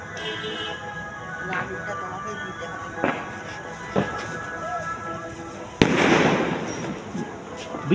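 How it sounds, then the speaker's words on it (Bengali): During Kali Puja a firecracker bursts with a sharp, loud bang, and a crackling rush follows. Earlier pops are fainter, and people talk over steady festival background noise. "বিকট শব্দে একটা বাজি ফাটলো।"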